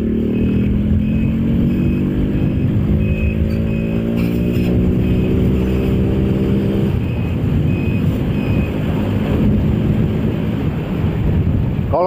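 A motorcycle on a road test, heard from inside a GM New Imprezza helmet: a steady engine drone that rises in pitch as it accelerates, then settles, under constant loud wind rush.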